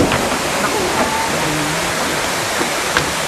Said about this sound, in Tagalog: Pero bago doon, atin munang silipin ang Tamaraw Falls.